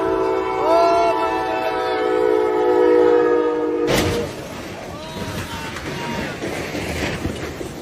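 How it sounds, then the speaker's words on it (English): Train horn blaring loudly with steady sustained tones for about four seconds, then cutting to a rough, broadband crunching and rumbling wash as the train smashes into cars, debris noise continuing to the end. "that train hit those cars so hard"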